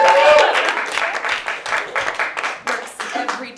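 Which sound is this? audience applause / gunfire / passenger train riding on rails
audience applause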